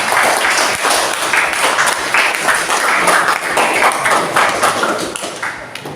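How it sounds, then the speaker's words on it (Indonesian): A classroom audience applauds for the fourth student group, loud continuous clapping from many hands lasting throughout, close and fairly dense, fading slightly at the very end. "aplaus untuk kelompok 4"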